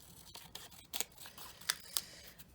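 Scissors cut paper strips at a quiet desk, giving a few crisp, separate snips spaced over a couple of seconds, with no voices.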